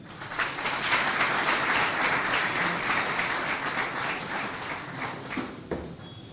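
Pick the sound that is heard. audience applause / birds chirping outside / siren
audience applause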